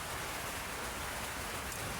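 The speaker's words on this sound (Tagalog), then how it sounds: "Ayan, umuulan na panahon mga idol." Rain falls in a steady, dense hiss that fills the whole stretch evenly and stays close and loud, with no talking.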